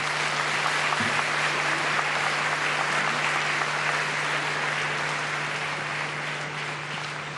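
An audience applauds at the Africa Climate Summit in a large conference hall in Nairobi, sustained, even clapping with a faint steady electrical hum underneath, continuing without speech for several seconds.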